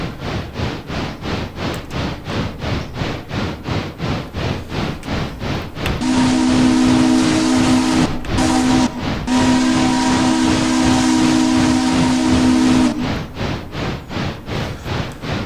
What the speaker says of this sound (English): they better be ready to wait for a while as this train passes